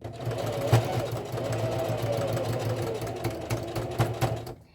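Sewing machine running a regular stitch down a corset seam, a steady close mechanical whir with light rhythmic knocking, continuing for several seconds with no talk.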